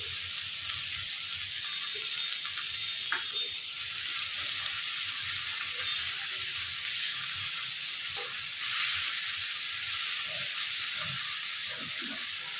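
Ginger paste frying in a pan over a lowered gas flame for chilli chicken, giving a steady close sizzle and hiss that runs throughout, with a few faint clicks and a brief louder swell near the end.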